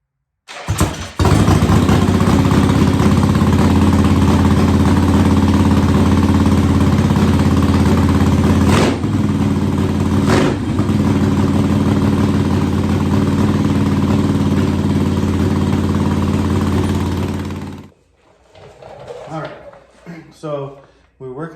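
An Iron Head Sportster motorcycle engine fired up close and held at a loud, steady idle for about seventeen seconds, with a couple of brief revs, before cutting out and leaving faint talk.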